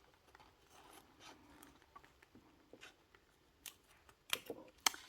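A few sharp snips of scissors trimming excess zipper near the end, each a crisp metallic cut, after a stretch of quiet handling and faint rustling.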